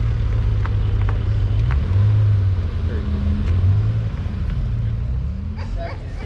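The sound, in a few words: Spyder sports car driving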